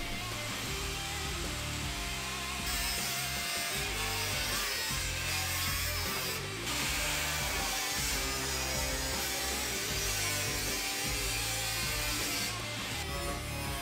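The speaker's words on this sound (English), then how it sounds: "The cleanest way to do this was to use an angle grinder with a cut-off wheel." Angle grinder with a cut-off wheel slicing through the carbon fiber roof of a rolled Mitsubishi Pajero Evolution, a steady loud grinding whine held for over ten seconds, close up with no talking.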